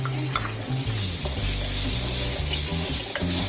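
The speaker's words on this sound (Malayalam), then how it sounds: "അപ്പൊ നമുക്കിതിലേക്ക് എടുത്തു വെച്ചിരിക്കുന്ന തക്കാളി ചേർത്ത് കൊടുക്കാം." Tomatoes go into a pan of frying masala for tilapia gravy, giving a steady close sizzle with scraping and stirring clatter throughout and no talking.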